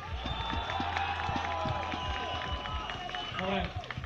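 An audience applauds and cheers a dancer at a spring show, with dense crowd clapping and voices blending into a continuous roar, while people talk over it.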